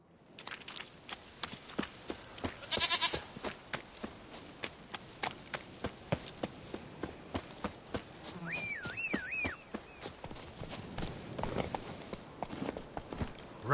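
Horse hooves clip-clop in a steady, fairly quick rhythm in The Witcher 3 video game, close and moderately loud, with a brief whistle partway through.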